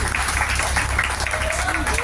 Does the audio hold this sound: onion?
no